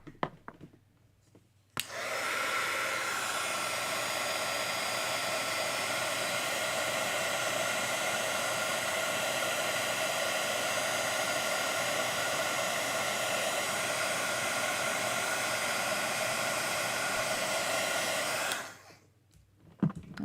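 An embossing heat tool melting embossing powder on a stamped card gives a steady, loud blower whoosh for about sixteen seconds, starting abruptly and cutting off near the end, with no talking over it.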